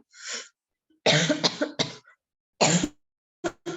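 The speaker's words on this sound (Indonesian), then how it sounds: "Saya sambil batuk-batuk dikit." Several harsh coughs up close: one softer cough, then a rough cluster, a pause, another cough and two short final hacks.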